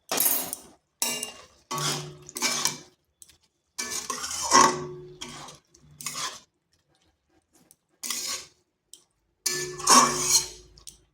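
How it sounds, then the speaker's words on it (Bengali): Okra and spices being stirred in a pan with a spatula, heard as close, intermittent bursts of scraping and clattering against the metal, separated by short pauses. "ঢেঁড়সটা ভালোভাবে মিশিয়ে নিচ্ছি। দিয়ে দিচ্ছি সামান্য গরম মশলা।"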